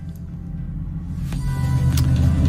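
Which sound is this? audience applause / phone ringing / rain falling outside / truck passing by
truck passing by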